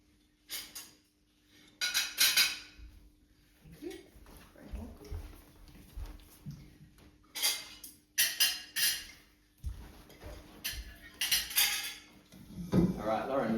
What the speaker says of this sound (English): give everyone back their plates and their cutlery and we'll have another go.